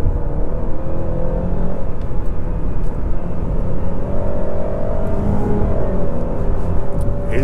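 A 2020 Honda Civic EXL engine drones steadily from inside the cabin, rising and falling slightly with a brief change in pitch as it drops into second gear, loud and continuous with no speech.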